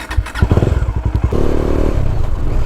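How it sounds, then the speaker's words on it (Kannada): A Bajaj Dominar 400cc motorcycle with a modified exhaust is ridden, its engine note loud and close, a throbbing exhaust burble rising into a steady drone. "ಮಾತಾಡಿದ್ದು ಸಾಕು, ಈಗ ಬೈಕ್ ಓಡಿಸಿ ಯಾವ ಥರ ಫೀಲ್ ಉಂಟು ಅಂತ ನೋಡುವ"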